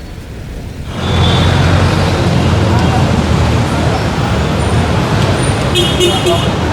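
Busy traffic at the Taft Avenue and EDSA intersection, with jeepneys passing: a dense, loud roar of engines and road noise swells in after a quiet second and holds steady, with occasional horn toots near the end.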